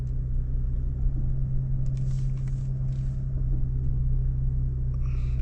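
A 2025 Lexus GX 550 Overtrail crawls off-road on crawl control, giving a steady low engine rumble and drivetrain hum that stays even throughout, heard from inside the cabin with no talking.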